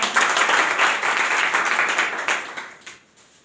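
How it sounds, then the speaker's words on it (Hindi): Loud applause from an audience at a Hindi motivational gathering, dense clapping sustained for about two and a half seconds before tapering off into a few final claps. "जोरदार तालियां।"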